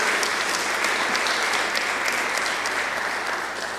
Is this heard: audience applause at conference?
yes